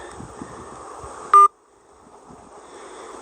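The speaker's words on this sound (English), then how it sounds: "I think I'm supposed to hit pound." A phone keypad tone from the pound key on a voicemail line: a single short, loud electronic beep over faint line hiss, followed by near silence.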